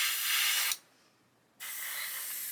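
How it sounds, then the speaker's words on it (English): Compressed air sprayed to dry hairspray on a model build, a loud steady hiss in two bursts separated by a short silent pause, close and without talk. "I'm just using air now just to spray, just to dry this hairspray out"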